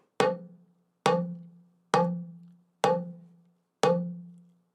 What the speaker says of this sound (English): But if I hit it dead on, right?